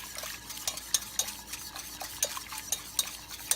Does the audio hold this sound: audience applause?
no